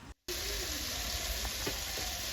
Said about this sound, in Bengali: তারপরে এই যে তেলটা গরম হয়ে গেছে, জিরেটাও দিয়ে দিয়েছি দেখলে। তো তারপরে আমি মশলাটা এবার এই সুন্দরভাবে কষিয়ে নেব।